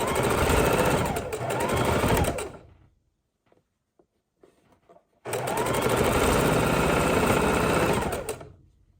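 A sewing machine runs seams across pinwheel quilt blocks in two loud, close bursts of rapid stitching, separated by a few seconds of near silence with faint handling sounds.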